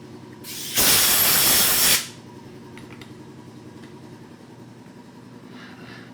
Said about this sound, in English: New air compressor is pretty quiet.